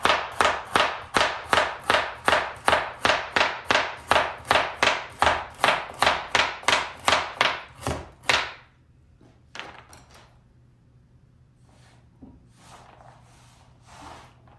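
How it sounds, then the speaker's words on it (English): A kitchen knife chops peeled carrots into rounds about a quarter inch thick. A fast, evenly spaced run of about twenty sharp chops is followed by a few scattered knocks and quiet handling. "now that we have peeled the carrots, we're just gonna give it a cut up now."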